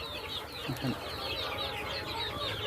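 Black chickens and native chicks in a shared pen, soft clucking and repeated high chick peeps over a low background hum, fairly faint and close.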